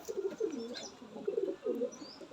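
High-flying pigeons cooing in a loft, soft repeated low coos with a few faint chirps and a wing flutter, close and fairly quiet.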